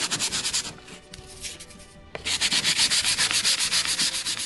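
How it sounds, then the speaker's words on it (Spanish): Sandpaper rubs by hand across a mounted scorpion molt display before it is fixed to a wall. The strokes are close, rhythmic and gritty, with a brief pause midway and then faster, louder scraping. "para ponerlo en la pared, voy a lijarlo un poco."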